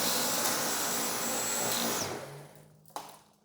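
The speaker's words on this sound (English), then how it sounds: "Okay, it's not able to suck it up all that much" A Dyson V10 Animal cordless vacuum cleaner runs with a loud, steady whirring roar while picking up spilled rice, then powers down and winds off, followed by a single sharp click.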